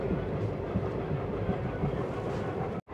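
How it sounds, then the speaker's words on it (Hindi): Passenger train running along desert track near the India–Pakistan border between Barmer and Munabao, a steady loud rumble with rhythmic wheel clatter and wind buffeting, close and continuous, cutting out abruptly near the end. "हमारी ट्रेन निकल रही है अभी"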